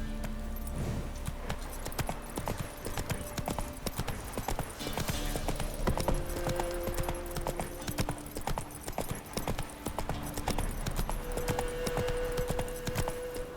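Horse hooves clip-clop steadily in The Witcher 3 video game, a continuous rhythmic beat of footfalls close up over a constant game ambience, with a brief whinny and short spoken command.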